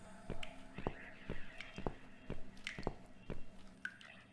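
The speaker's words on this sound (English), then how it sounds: "It has that weird thick drop that only coffee makers make. Drip machine particularly." Thick drip sounds from a drip coffee maker in The Cat Lady video game: about eight heavy, evenly spaced drops plop over low background hum, fairly close and moderately loud.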